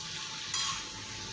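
A faint, soft sizzle of vegetables frying in a pan while mustard paste is ground, brief and steady.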